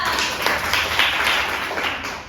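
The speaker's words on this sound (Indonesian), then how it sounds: "beri tepuk tangan kepada mereka" A classroom of students gives a short burst of applause, a dense, steady patter of many hands clapping together, fairly close and with no talking over it.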